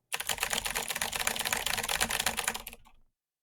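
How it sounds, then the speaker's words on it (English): Rapid, continuous typing on a loud mechanical keyboard with clicky Cherry Blue switches, a dense close-up clatter for about three seconds that stops abruptly into silence. "I've got the Cherry Blues on it. So it is a very loud, clicky keyboard."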